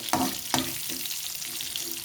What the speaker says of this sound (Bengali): চিংড়ি মাছটা ভালো করে ভাজা হয়ে গেছে খুব বেশি তো চিংড়ি মাছ ভাজতে নেই তাই মোটামুটি হালকাভাবে ভেজে নিলাম